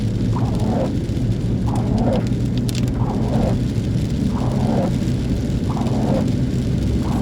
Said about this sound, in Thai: ฝนก็ยังตกปล่อยๆอยู่นะครับ